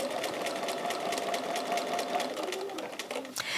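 Close sewing machine running continuously, its fast needle chatter stitching a quilt block with a steady rhythmic whir, ending in a brief clunk.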